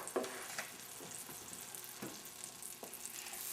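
Butter melting in a heated skillet for scrambled eggs, a faint steady sizzle with a few soft taps and scrapes, quiet and close with no talking.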